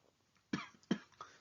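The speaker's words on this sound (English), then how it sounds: "Sorry about the cough." Two quick, close coughs from an adult man, soft but distinct, followed by a faint throat-clearing huff, with no speech around them.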